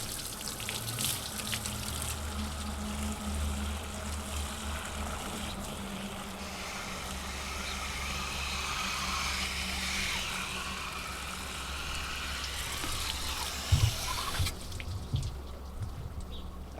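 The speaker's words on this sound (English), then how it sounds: "I can hear it going through the deck boards, so I know the whole thing is watered." Water from a hose soaks hanging baskets of plants set out on a deck, a steady quiet hiss and trickle of water running through the soil and draining down between the deck boards outdoors.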